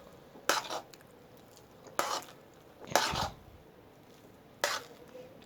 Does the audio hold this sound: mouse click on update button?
no